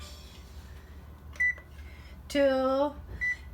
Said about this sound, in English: While Onii's mixing the mixture, I am going to set the oven